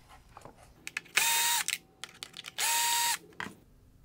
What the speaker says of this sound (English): I will remove the two Phillips head screws holding in this corner controller.